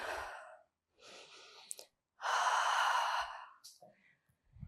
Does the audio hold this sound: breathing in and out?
yes